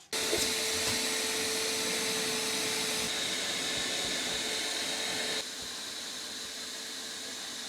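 A vacuum cleaner runs continuously while cleaning a car's interior at a car wash, a steady close airy whine and hiss that drops slightly in level partway through.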